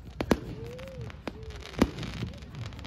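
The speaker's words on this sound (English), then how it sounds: "no one's gonna copyright strike a firework recording" Fireworks at a crowded public display crack and pop at a distance in scattered bangs, with whistling rising streaks between them over steady crowd rumble.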